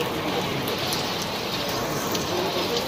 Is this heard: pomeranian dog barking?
no